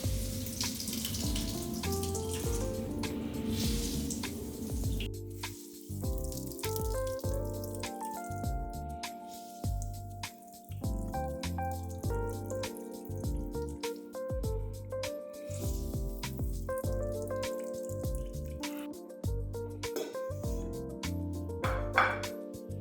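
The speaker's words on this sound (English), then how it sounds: "Squeeze out as much liquid as possible." Liquid runs and drips from grated zucchini and potato squeezed by hand over a bowl, a continuous watery trickle with scattered drips under steady background music, no talking.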